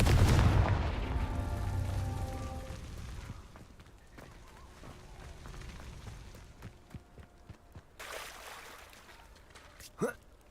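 A Confringo fire spell goes off in Hogwarts Legacy with a loud, booming burst at the start that fades over a few seconds. Quieter game sounds follow, ending in a short sharp whoosh.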